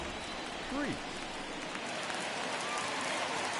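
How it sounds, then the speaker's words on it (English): Steady, dense rain hiss falls throughout a baseball game in the MLB The Show 21 video game, with a brief faint voice sweep early on. "the rain starting to intensify here. It's coming down a little heavier now."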